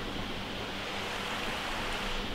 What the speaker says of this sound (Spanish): Allá arriba la cascada.